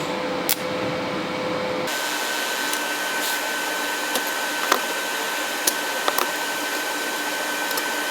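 Steel hairpin table legs held on a fixture are welded, giving a steady loud hiss and buzz with occasional sharp crackles and pops, after a brief changed tone at the start.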